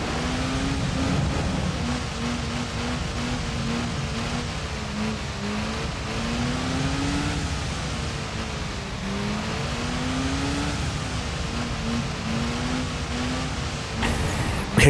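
In Gran Turismo 3, a race car pulls away from the start line. The engine drone climbs steadily through the gears with brief dips at each shift, loud and continuous throughout.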